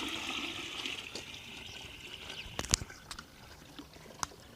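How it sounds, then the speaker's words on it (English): Pond water pours from a bucket into a mini tank of a home aquaponic system in a garden, a steady rushing splash that fades, followed by scattered drips and light plastic clicks. "The buckets, take some water from the ponds, water, put it in the mini tanks."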